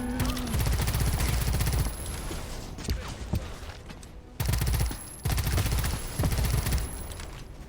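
Bursts of covering gunfire from the Pax Autocratica video game, dense rattling machine-gun volleys that cut out around the two- and five-second marks and resume, loud and continuous, with no talk over them.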